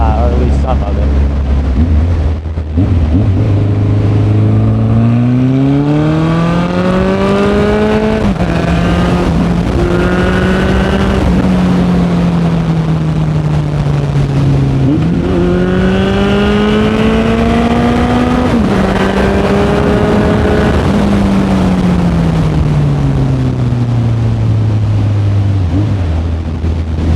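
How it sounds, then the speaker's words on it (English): A Honda CB1100 motorcycle accelerates hard through the gears, its exhaust climbing in pitch, dropping at each shift and climbing again, loud and continuous with wind rush throughout. "I might get on it a little bit just to test the exhaust and show you how much get up this bike actually has"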